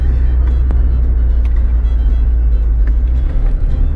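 Steady low road rumble from a car driving along back roads near Pigeon Forge, Tennessee, a continuous close engine and tyre drone throughout with no talk.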